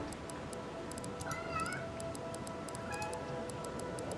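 Meows from a cat in the fantasy video game Avowed, brief rising and falling calls over a steady ambient game soundscape with faint ticking, moderately quiet.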